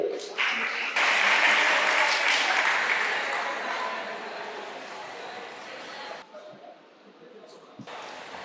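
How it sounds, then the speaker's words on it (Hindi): A seminar audience breaks into sustained applause for a student, the clapping loud and dense from about one second, fading gradually and thinning to scattered claps near the end. "ताली बजाइए"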